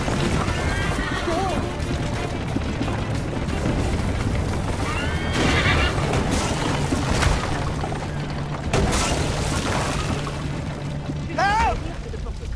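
Horses whinny and neigh several times over thudding hoofbeats and a dense, chaotic game soundtrack in Assassin's Creed Liberation, the calls rising clearly above the rumble with voices shouting in between.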